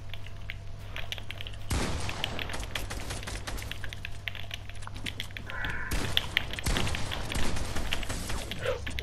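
Assault rifle fire in a Fortnite Creative match, with loud sustained bursts of shots that start and stop over the span. A steady low hum runs underneath, and a faint voice is present.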